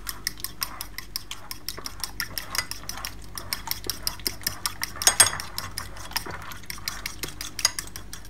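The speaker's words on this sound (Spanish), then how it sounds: "Vamos a mezclar todo muy bien." A utensil clinks rhythmically against a bowl as a shrimp tortilla mixture with chopped parsley is stirred, steady regular taps close up with a soft scraping between them.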